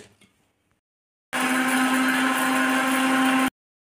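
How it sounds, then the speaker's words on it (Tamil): A mixer grinder jar whirs loudly as green chillies are ground for old-rice vadam, a steady high-pitched motor roar starting abruptly and cutting off after about two seconds, with faint clatter before it. "நம்ம முதல் மிளகாயை மிக்சி ஜாரில் சேர்த்து அரைச்சிட்டு அப்புறம் சாப்பாடு போட்டுக்கலாம்."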